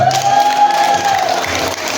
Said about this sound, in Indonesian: Tepuk tangan dulu buat Rehan.